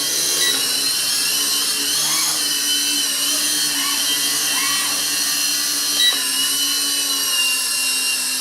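A small UDI beginner RC helicopter hovers during an automatic one-key landing, its motor giving a steady, close, high-pitched whine that holds throughout with no talking.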